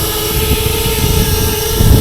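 A homemade FPV drone hovers in GPS position-hold in light wind with a loud, steady buzzing whine and rushing wind noise, holding constant throughout.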